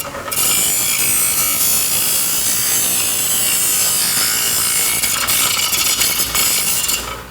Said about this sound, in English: I'm gonna clean up the excess burr around the edge with my grinder here.